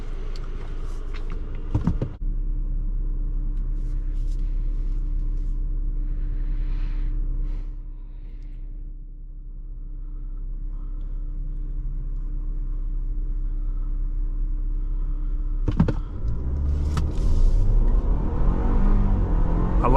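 A 2023 Audi Q5 Sportback accelerates hard from idle, its engine rumbling steadily from inside the cabin and building in pitch through a sustained run, with a brief thump or shift near the start and another toward the end.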